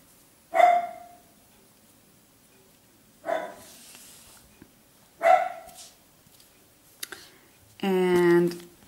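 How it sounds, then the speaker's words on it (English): A dog gives three separate short barks spaced a couple of seconds apart, moderately loud and close, in a home during a crochet session, followed by a longer harmonic yelp-like sound near the end. "This is my dog."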